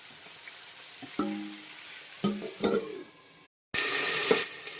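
A spoon stirs pumpkin and potato curry in a pan. Occasional scraping stirs sound over a soft, steady sizzle, followed by a brief gap and then louder, denser frying. The sounds are close and there is no talking.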